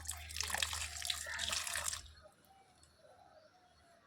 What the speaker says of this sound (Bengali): এই অবস্থাতেই আমি দিয়ে ভালো করে জলে ধুয়ে নেব, যাতে আলুর যে কষটা আছে বেরিয়ে আসে